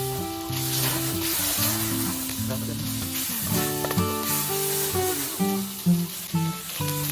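Bay leaves and spices sizzling in hot oil over a cooking fire, a continuous close crackle and hiss heard under a loud music track, with no talking.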